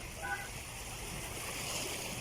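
Waves at Baseco Beach in Tondo, Manila wash in a low, continuous rush along the shore, quiet and steady with no voices over it.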